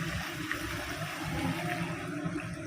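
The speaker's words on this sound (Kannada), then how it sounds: "ಈಗ ಸ್ವಲ್ಪ ಬೇಯೋಕ್ಕೆ ಒಂದು ಅರ್ಧ ಲೋಟ ಅಷ್ಟು ನೀರು ಹಾಕ್ಕೊತಾ ಇದ್ದೀವಿ." Water pours into a pan of ghee-and-oil roasted garlic chicken, making a continuous close, moderate hiss and bubbling wash with no talk.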